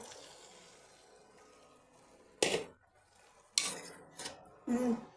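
Ground mustard paste being mixed into flat beans in a pan, with a few short, sharp scraping and stirring bursts over a quiet kitchen background.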